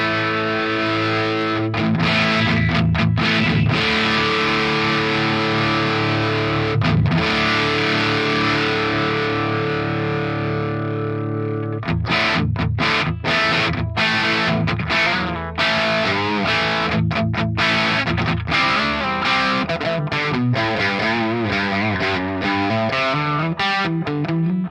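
Electric guitar runs through an Axe Fx III modeling a Mesa Boogie Lone Star amp with the overdrive fully cranked, playing thick, saturated sustained chords and then faster picked riffs, loud and alone.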